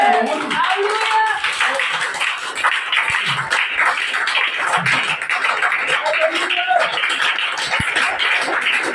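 Church congregation at a Sunday worship and praise service clapping their hands, a loud, close and busy patter running throughout, with voices talking and calling out over it.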